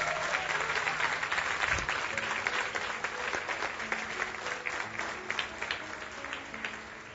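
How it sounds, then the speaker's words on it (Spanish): A church congregation applauds steadily during a Spanish-language worship service, a dense, sustained wash of clapping that holds at an even level throughout and tapers slightly toward the end, with no speech over it. "Ahora sí quiero oír ese aplauso para Dios."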